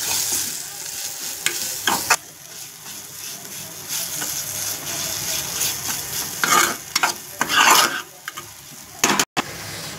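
Malvani masala with turmeric roasting in a pan while a spoon stirs it, giving a steady close sizzle broken by sharper scraping strokes, with no talk over it.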